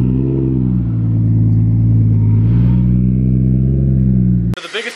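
A big-turbo BMW 335i roars loud and close on a dyno, its engine holding a steady, rich revving drone that climbs slightly in pitch before cutting off abruptly near the end.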